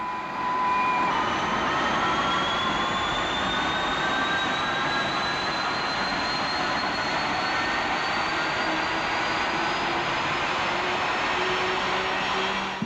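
An early jet engine, first run on April 12, 1937, accelerates out of control, a steady loud roar with high whining tones that climb continuously in pitch throughout, no voices.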